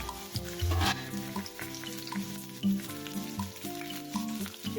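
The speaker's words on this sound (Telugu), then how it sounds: "చూసారా ఎంత చక్కగా వేగుతున్నాయో. కాకరకాయ ముక్కలు ఇలా నీట్గా వేగితే దానిలో చేదంతా పోతుంది." Bitter gourd pieces fry under a lid in a covered pan with a steady, close sizzle. Occasional louder crackles and bumps rise above it.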